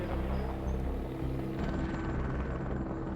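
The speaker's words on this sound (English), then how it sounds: "Due to its bulk, Siddhartha and Andy carry the transformer underneath the chopper, an intricate process known as sling loading" A helicopter in Nepal carrying a transformer slung underneath chops steadily with a heavy low thrum, fairly close and continuous throughout.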